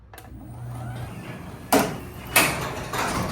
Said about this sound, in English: We're going to hold that until the door gets to completely closed position.